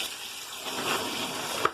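Water pours steadily into a Zeny portable washer, a broad continuous rush from a tap or hose that swells in the middle, then ends with a short knock near the close.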